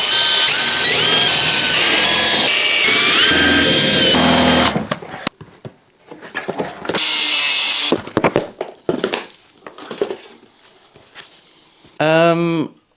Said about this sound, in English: a ton of rivets to drill out